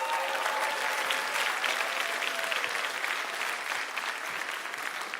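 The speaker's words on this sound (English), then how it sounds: "One more round of applause for Doug Baldwin" A high school conference audience gives a sustained, even round of applause for a speaker, dense clapping from many hands filling the room without a break.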